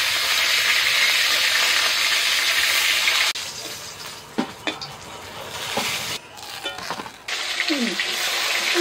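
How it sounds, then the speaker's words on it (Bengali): Fish fry in very hot, smoking oil, giving a bright hissing sizzle that is steady at first, then drops away amid clinks and scrapes before the sizzling returns loudly. "সব মাছগুলো ভাজা হয়ে গেছে"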